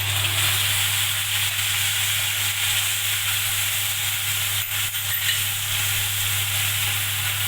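Ground spice paste sautés with onions for an egg curry, giving a dense, continuous sizzle close by with a low steady hum underneath and a few faint scrapes of stirring.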